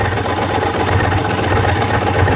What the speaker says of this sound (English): and she's back to idling.